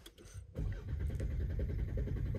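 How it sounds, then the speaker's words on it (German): A car engine cranks and catches after a short pause, then settles into a steady, fairly close idle rumble that continues without talk. "Mach mal den Motor an."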